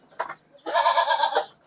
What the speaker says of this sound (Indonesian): Wah, kambingnya banyak ini.